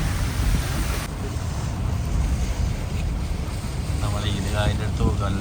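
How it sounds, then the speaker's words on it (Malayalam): Heavy rain falls in Qatar, a loud, dense continuous roar of downpour with wind buffeting close to the microphone throughout. "നമ്മുടെ ഈ ഏരിയയിലാണെന്ന് നല്ലവണ്ണം മഴ പെയ്യുന്നു"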